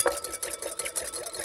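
A pear and lychee dessert mixture sweetened with honey or brown sugar is stirred slowly in a bowl, giving soft, steady scraping swirls in an even rhythm, close by and alone.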